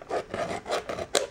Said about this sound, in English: we are going to have to use these scissors.